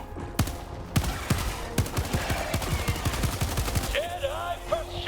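Rapid gunfire in the video game Helldivers 2, a quick series of sharp shots in an uneven burst, followed by a few short electronic tones at the end.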